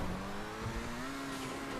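An Annis RE-7B stunt car in GTA 5 drives a stunt course, its engine giving a steady rising drone with tire noise at constant loudness, heard alone without talk.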